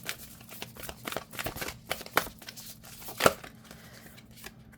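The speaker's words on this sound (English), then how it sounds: "All right, overhand shuffle. Yep, works just fine." Oracle cards being overhand shuffled by hand, a quick run of soft papery riffles and slaps in irregular bursts, close and fairly quiet.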